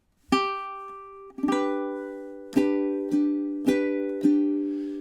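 Bright ukulele chords from a song ring out one at a time, six strums with gaps between, each decaying slowly; no talking.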